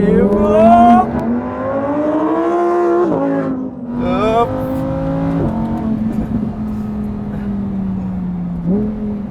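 A Lamborghini Huracan EVO engine revs and accelerates loudly up close, its pitch climbing steadily through the gears with brief dips at shifts, running continuously for about nine seconds.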